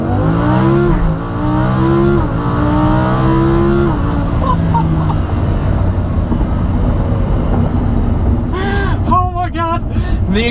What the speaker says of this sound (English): activate launch control so you can hear the ridiculous sound of the Huracan